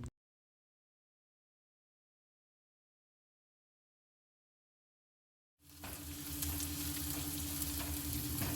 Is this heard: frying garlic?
yes